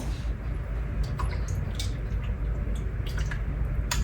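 Artichoke spinach soup is ladled and drips, with soft liquid splashes and scattered small drips over a steady background hum, faint and close.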